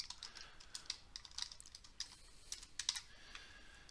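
Quiet, close keystrokes patter on a computer keyboard in a quick, uneven run of light clicks, with no talk.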